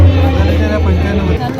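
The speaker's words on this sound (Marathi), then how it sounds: "आता थोडी गर्दी होत चालली आता." Crowd babble at the Kokan festival in Dombivli, a dense, close murmur of many voices with a steady low hum underneath for under two seconds.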